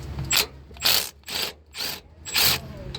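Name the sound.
impact gun removing bolt on A/C compressor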